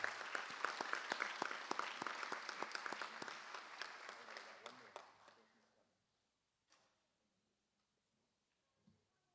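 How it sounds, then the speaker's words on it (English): Board meeting audience gives a round of applause for Savannah Brown, a North-South contestant: brisk, moderately loud clapping for about five seconds that fades out, followed by near silence with a couple of small knocks. "So let's give her a round of applause."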